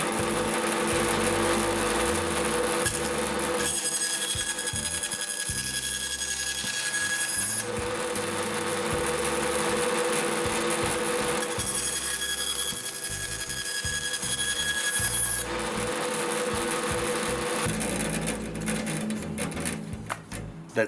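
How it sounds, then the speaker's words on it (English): A bandsaw cuts through a tube, giving a fairly quiet, rhythmic mechanical rattle that alternates between busier and calmer stretches across about twenty seconds. "we're ready to cut up one of the tubes now on the bandsaw"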